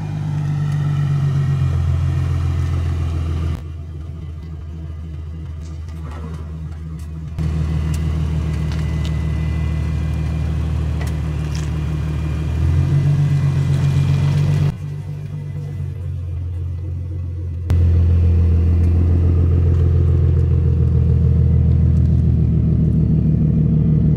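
Lowered Infiniti Q50 pulling into a driveway, its engine a steady low rumble that swells and eases in stages over about twenty seconds, fairly close with no talking.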